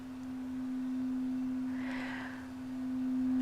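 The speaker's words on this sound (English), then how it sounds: "these are my crystal singing bowls" Crystal singing bowls tuned to chakra tones ring out as a steady, pure sustained tone, loud and alone, with a faint shimmer of higher overtones swelling midway.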